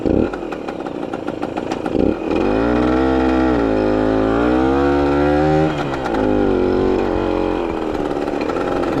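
A 1970 Yamaha AT1 125 motorcycle engine runs loud and close, its buzzing note rising and falling as the revs swing up and down, with a rougher burst at the start and no talking.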